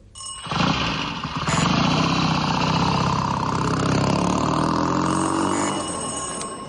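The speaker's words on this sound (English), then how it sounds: "That's not a Land Rover. What is it, then? It's a motor bicycle." A motor bicycle engine starts abruptly and settles into a loud, steady buzzing run close by, holding an even droning note with a faint bell-like ring on top throughout.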